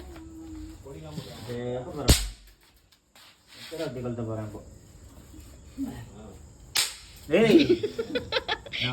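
Two sharp firecracker bangs go off a few seconds apart, followed by a crackling burst, while people talk nearby, after Diwali.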